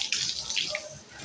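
Water runs steadily from a tap into a sink, a continuous hissing splash at close range with small shifts in the flow, heard on its own.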